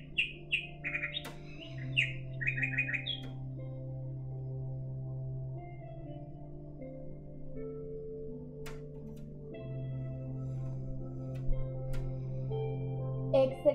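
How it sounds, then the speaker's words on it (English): Bird chirps and tweets come in short bursts near the start, over a sustained hummed music tone that continues throughout, moderately quiet and fairly close. "I can hear the birds."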